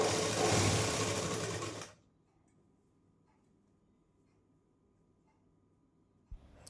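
A sewing machine runs a stitch around the neck of a blouse, attaching a joined cross-cut strip to the main piece; a loud, steady whirring burst lasts about two seconds and then stops, leaving near silence with a faint click near the end.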